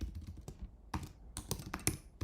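Computer keyboard keys clatter in quick irregular bursts, close and fairly quiet, with short pauses between clusters of keystrokes.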